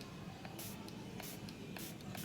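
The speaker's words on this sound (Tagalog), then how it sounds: "Wow, super fine yung pagbuga ng spray." A D'Alba skincare facial mist sprays a super-fine mist in several short, quiet hissing bursts over a faint steady background.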